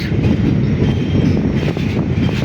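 A moving train, heard from its roof while passing Ibrahimabad railway station after crossing the Jamuna Bridge; a loud, constant rumble and rattle of rolling wagons with faint wheel clatter, close and uninterrupted.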